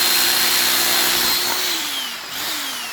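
A power tool chips concrete around a broken fence post, making a continuous loud buzzing grind close by whose pitch dips and recovers as it bites in.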